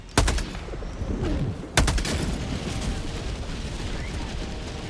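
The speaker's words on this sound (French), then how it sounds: "Demande de frappe orbitale." Orbital strike explosions in the Helldivers 2 video game: two sharp, loud booming blasts about a second and a half apart, each followed by a rumbling, crackling tail that persists under the game's background noise.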